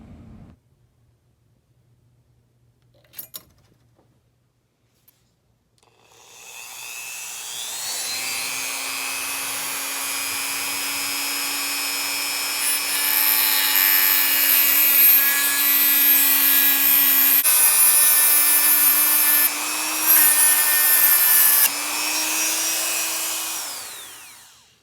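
A motorcycle throttle cable about 2 mm thick, cut with a power tool: a loud, steady high-pitched whine starts after a few quiet seconds with a couple of faint clicks, holds for about eighteen seconds with slight shifts in pitch, then stops.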